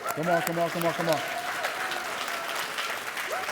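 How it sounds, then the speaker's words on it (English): Audience applause at a live leadership keynote, sustained clapping that swells through most of the clip while a voice speaks over the first second and another line is heard near the end. "One more big round of applause."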